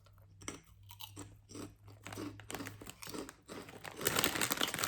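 Close, crisp crunching of cheese and onion crisps, with crackling bites and rustling of the packet in an irregular rhythm that grows louder toward the end.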